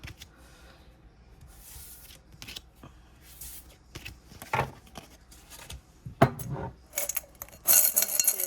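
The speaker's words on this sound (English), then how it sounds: "Give these a quick shuffle." Small metal divination charms clink and jingle as they're shuffled in irregular bursts, growing busier and brighter toward the end.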